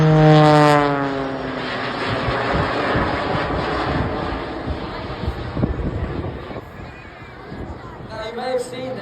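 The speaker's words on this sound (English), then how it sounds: "the aircraft, when it's stationary, you've got a piston engine turning the main propeller around." A piston-engined propeller aircraft at the Blackpool airshow, its steady engine drone and airscrew whine up close, with a rising tone early on and speech mixed in beneath the broad rumble.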